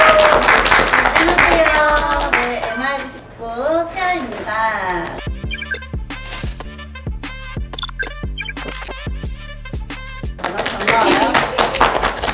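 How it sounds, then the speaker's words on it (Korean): A short burst of clapping, sharp claps spaced irregularly, sits between stretches of talk and music-like voices before and after. "박수."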